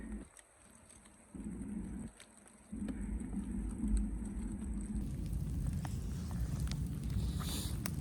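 Heavy rain falls in a forest during mushroom picking, a dense steady patter that starts quieter, swells in steps and then holds loud and continuous, with no talk.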